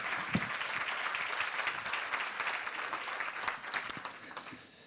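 Warm applause from a conference audience welcoming a guest to the stage, many hands clapping in a dense, even patter that stays steady before fading slightly at the end.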